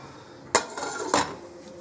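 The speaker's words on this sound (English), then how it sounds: "close the lid again" A metal lid is set back onto a cooking pot with two sharp clanks about half a second apart, close and clear against a quiet kitchen background.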